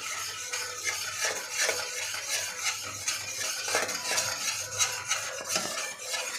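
Milk powder mixture stirred continuously in a pan to break up lumps for saffron modak, giving steady scraping and stirring with faint utensil clinks throughout, fairly close and without talk.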